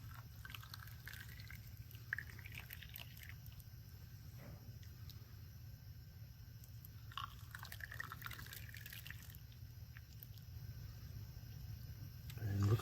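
Water drips and trickles from leaking valves in an engine cylinder head during a gasket check, faint irregular drips and small splashes over a low steady hum.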